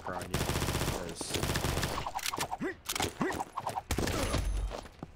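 Rapid bursts of MP5 submachine gun fire in a first-person shooter video game, short clattering volleys broken by brief pauses, mixed with game effects and faint background voices.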